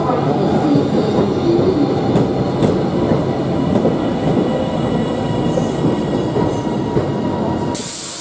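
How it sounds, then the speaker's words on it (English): Steam locomotive 45699 Galatea pulls into a station, a loud, steady rumble of rolling wagons with rhythmic clicks and faint squeals throughout, ending abruptly. "Please remain behind the red line until the train comes to complete stop."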